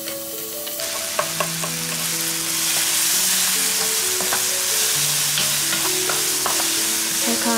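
Aged kimchi (mukeunji) being stir-fried in a pan, giving a dense, loud, continuous sizzle with scraping stir sounds close up and faint melodic tones running underneath.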